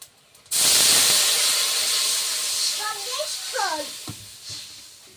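Sour curry broth poured into hot spiced oil sets off a sudden loud sizzling hiss that starts abruptly and slowly settles into a steady bubbling fry, with a few faint clinks toward the end.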